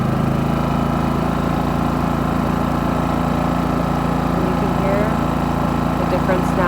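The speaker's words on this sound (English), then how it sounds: "You put it on eco mode, you're going to hear it's very, very quiet now, and you're burning less fuel." Champion 4500 watt dual fuel inverter generator running in eco mode, a steady, even engine drone with a constant hum, close by and unbroken, while someone talks over it.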